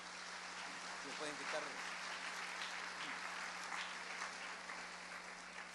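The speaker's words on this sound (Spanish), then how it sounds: "Démosle otro fuerte aplauso al Señor, hermano." Faint, distant applause comes from a church congregation during a Spanish-language service. The sound is a steady wash of clapping over a low electrical hum, with some voices mixed in.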